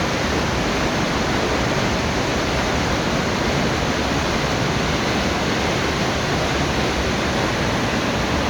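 A mountain stream rushes through a damp, mossy forest with hornbeam and osmanthus shrubs, a loud, constant broadband roar of flowing water heard close with no breaks.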